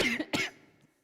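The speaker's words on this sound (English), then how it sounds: "I'm gonna cough." A person coughs twice in quick succession at a Shabbat service, short harsh bursts close to the microphone that fade into a quiet room.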